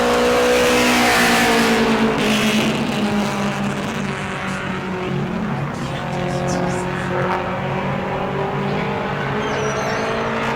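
A Mod Mini race car qualifying at New Smyrna speedway accelerates on track, its engine a loud, steady, rising drone with layered harmonics. Crowd or track ambience sits underneath.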